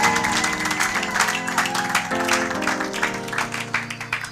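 A church congregation claps and cheers in praise during a worship service: dense, steady applause throughout, fairly loud and close, over sustained musical tones, with no one speaking.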